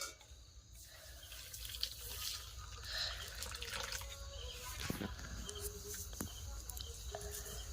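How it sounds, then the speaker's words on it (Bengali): Warm milk poured into a ripe banana pitha batter, heard as a faint, steady liquid trickle and splash at low volume, with quiet room noise around it. "এবারে দুধটা দিয়ে দেবো"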